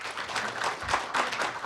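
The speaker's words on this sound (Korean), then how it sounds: "다시 한번 큰 박수 부탁드립니다." A brief burst of audience clapping at the closing of the sixth KOGAS forum on natural gas and renewable energy, uneven and moderately loud, swelling in small waves.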